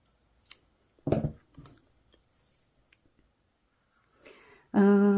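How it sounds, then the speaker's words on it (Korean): Scissors snip crochet yarn after a finishing chain, giving a few soft, close clicks and cuts in near silence before a louder tone cuts in at the very end. "사슬 하나 하고 이제 잘라줍니다."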